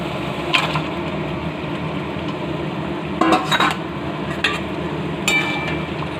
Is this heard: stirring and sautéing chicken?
yes